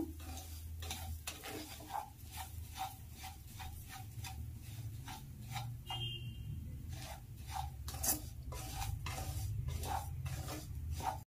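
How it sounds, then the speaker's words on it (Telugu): Lapsi semolina roasting over a medium flame in a pan, with a steady soft scraping rasp as a spoon stirs it in regular strokes, each stroke ticking lightly against the metal, close and continuous. "మీడియం ఫ్లేమ్లో పెట్టుకొని రవ్వను కొద్దిసేపు అంటే ఒక 5 మినిట్స్ వేయించుకోవాలి"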